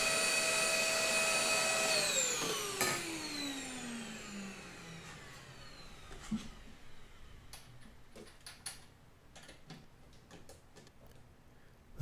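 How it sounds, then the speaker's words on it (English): A vacuum cleaner used for sawdust cleanup while building a replica ITG2 dance pad switches off and winds down from a steady whine, followed by quiet scattered clicks and small knocks. "Vacuum cleaner gets a lot of action during this."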